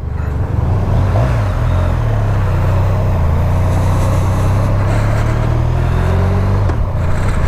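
A Honda Crosstourer motorcycle ridden on a morning commute over A roads and motorways, with a loud, steady engine drone and wind rush, rising and falling gently in pitch as the revs shift.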